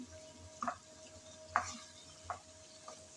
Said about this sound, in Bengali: নেড়ে চেড়ে মিশিয়ে নিলাম